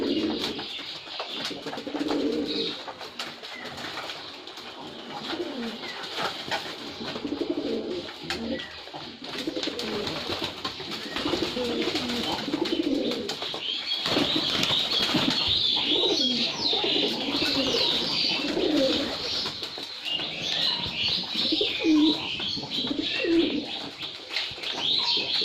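Red pigeons of large size in a loft, cooing steadily for the whole stretch with chirps and occasional wing flaps, a dense, continuous flock sound with no talking.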